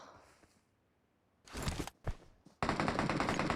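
Gunfire in the video game PUBG: after a quiet stretch, loud close bursts of automatic fire, two short volleys and then a sustained rapid string.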